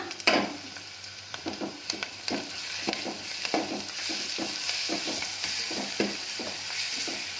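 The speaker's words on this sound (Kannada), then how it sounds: "ಹಾಕ್ಕೊಂಡು ಚೆನ್ನಾಗಿ ಕಲಸ್ಕೋಬೇಕು ಅದು ಹಸಿ ವಾಸನೆ ಹೋಗೋವರೆಗೂ ಹುರ್ಕೋಬೇಕು" Ground coriander paste being stirred and fried in a pan, with a close, continuous sizzle and frequent scraping spatula strokes and clicks against the pan, and no one speaking.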